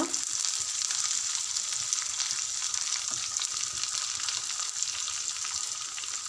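A large onion and green chillies fry in oil for a bitter gourd curry, an even, close sizzling hiss with faint stirring scrapes, constant in level and free of speech.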